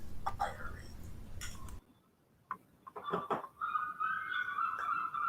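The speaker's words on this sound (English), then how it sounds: "you can hear the seagulls outside" Seagull calls ring out from a distance outside after a brief stretch of low rumble, with a sustained high call and scattered chirps around it.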